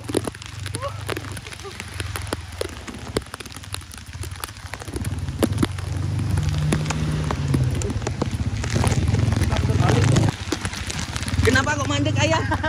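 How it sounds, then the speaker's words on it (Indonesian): Heavy rain pouring outdoors near a flooding river, a dense, continuous hiss and patter that swells louder in the second half, with people talking over it now and then. "Dingin ternyata air hujan."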